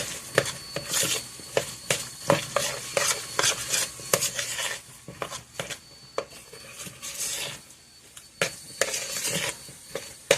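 Apple chunks being mixed into fritter batter in a bowl: repeated wet scraping and clacking strokes of a utensil come in an uneven rhythm, close and fairly loud, with a short pause partway through and no talking.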